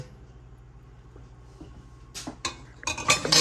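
Beef neck bone stew with mushrooms stirred in a pot, quiet at first, then a few sharp metallic scrapes and clinks of a utensil against the pot growing louder toward the end.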